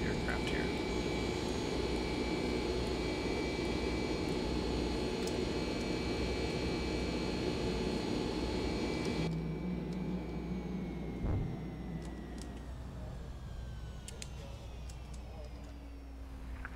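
Boeing 767-300F jet engines roar as a steady, loud broadband drone with high whining tones just after takeoff in the X-Plane flight simulator. The whine cuts away partway through, leaving a softer, lower rumble.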